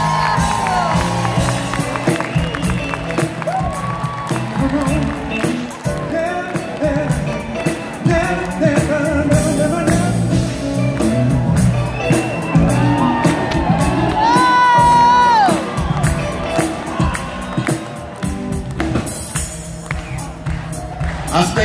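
Concert crowd at a show at the Glasgow Armadillo in 2018 erupts in loud applause, cheering and whoops, with an amplified voice talking over the sustained crowd noise.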